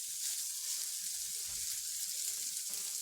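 Paneer cubes are stirred into masala in a pan for a paneer masala dosa, giving a steady, even hiss of sizzling with faint scraping underneath and no talk.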